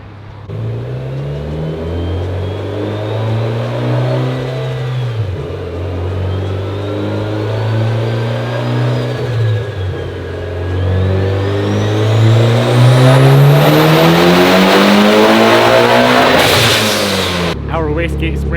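A tuned Mitsubishi Evo X making roughly 550 wheel horsepower revs on a dyno, its loud engine note climbing steadily through a long pull with rising whine and turbo hiss, briefly dipping before peaking near the end, with voices talking over it.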